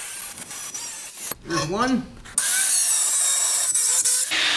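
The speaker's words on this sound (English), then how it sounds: "Look at that cut with a grinder" An angle grinder with a cutting disc slices through metal to notch a trailer hitch for a John Deere, giving a loud, steady, bright grinding hiss that stops briefly while someone speaks, then resumes at full strength.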